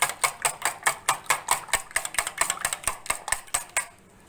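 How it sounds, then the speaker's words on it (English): Egg being beaten in a bowl, likely with a fork or whisk, giving a steady run of about sixteen crisp, evenly spaced clinking strokes close up that stop near the end, with no talking. "Beat the egg nicely until it forms bubbly"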